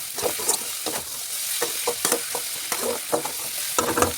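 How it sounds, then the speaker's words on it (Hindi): Tomatoes sizzle and fry in hot oil in a pan, with a spoon scraping and stirring in repeated strokes; close, steady crackling with no talk. "देखो टमाटर हमारे अच्छी तरीके से भून रहे हैं"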